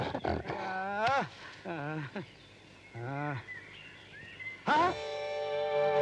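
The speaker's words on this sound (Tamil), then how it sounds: "ஐயோ கரடி" A bear roars in a Tamil comedy film scene, with several loud, strained roaring bursts separated by short pauses and a final long, drawn-out roar, all close and dominant.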